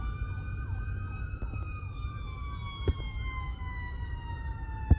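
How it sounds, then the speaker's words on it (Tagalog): A wailing siren sweeps steadily up and down, loud and continuous, with low road rumble and faint traffic underneath. "Ambulansya."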